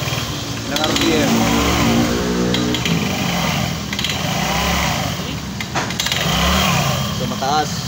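Motorstar Easyride 150FI scooter engine revving up and easing off in a few repeated surges, close and loud, with people talking over it.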